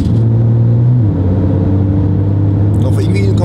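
Porsche 911 Turbo S with a 1300 hp engine pulling away smoothly, a steady low engine drone and rumble close by inside the car, with people talking over it.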